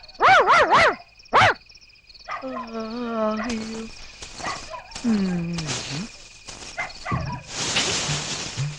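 Several sharp dog barks ring out close by at night, followed by yelps and whining cries, with a person talking in between.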